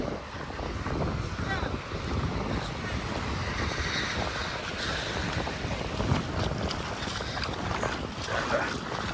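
Motor boat on the sea at Malvan, a faint engine hum mixed with wind buffeting the microphone and water splashing against the hull, with people talking in the background.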